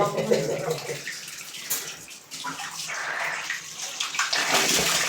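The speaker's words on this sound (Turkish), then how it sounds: "Tertemiz düz su geldi." Water rushing out of an opened bleed valve on a boiler radiator, a steady splashing gush that surges and eases over a few seconds, close by, with no clear speech over it.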